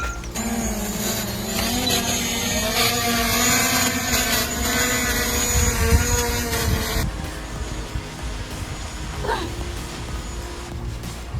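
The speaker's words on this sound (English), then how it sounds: "You can kind of hear the thing struggling as it's flying." A DJI Mavic drone carrying a taped-on bottle of alcohol drones with a strained, buzzing rotor whine, loud and continuous, with the pitch wavering as it labors in flight.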